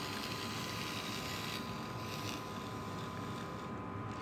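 A model BN 79 switcher locomotive roars steadily with a loud, continuous broadband drone as it strains against a heavy coupled train during a layout operating session, with no voices.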